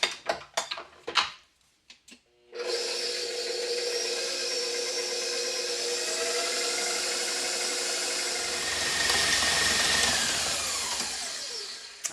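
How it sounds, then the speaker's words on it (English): An electric mixer beats gluten-free alfajores cookie dough until light and fluffy, a loud steady whir running continuously after a few brief knocks at the start. "So I'm going to beat this up till it's light and fluffy."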